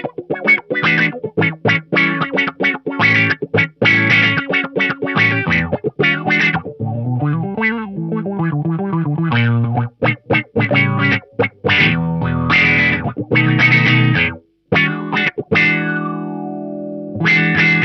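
Funky auto-wah guitar through the envelope filter of a Roland GP-8 rack processor, chords and single notes sweeping up and down in vowel-like quacks with each pick attack, loud and continuous with short gaps, no talking.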